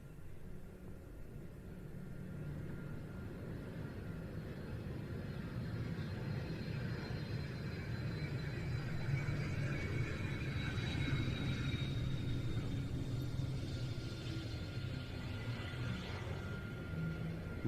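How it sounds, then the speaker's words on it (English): A Spanish Navy Cessna Citation support jet arrives at an airshow at Fairford, its engine noise a steady, distant rumble with a faint high whine that builds gradually and holds throughout. "Here comes the support aircraft for the 2 Harriers, a citation"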